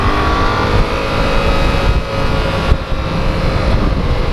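A 2016 Yamaha FZ-07 motorcycle held in second gear, its engine droning steadily and close with dense broadband roar and wind rush, a brief throttle dip midway before the drone picks back up.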